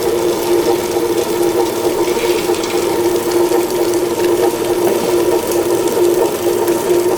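Mixer grinder blending urad dal and onion without water for onion vadagam, a steady loud motor whine with a constant churning hum running unbroken throughout, close to the microphone with no talk.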